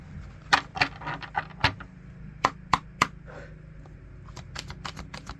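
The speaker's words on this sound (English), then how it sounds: "I'm feeling guided to shuffle for yet another card for the 5th position." Tarot cards are shuffled by hand, a run of sharp crisp snaps and riffles that come in irregular bursts, some louder than others, close up and with no talk.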